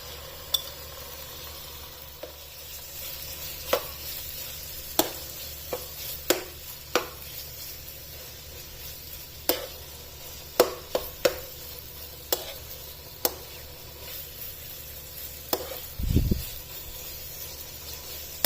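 Marinated chicken cooking in olive oil in a pan for chicken tikka pizza, a quiet steady sizzle under repeated sharp clicks of a utensil against the pan and one brief low thump near the end.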